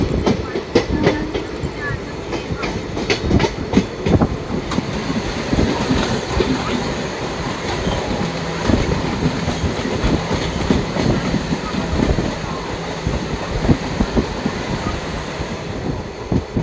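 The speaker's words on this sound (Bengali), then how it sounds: "ট্রেন ঢুকছে এখন রানাঘাটে" A Sealdah–Krishnanagar local train rolls into Ranaghat station, wheels clattering steadily over the rails in a continuous, close rumble with rhythmic clicks and no voices.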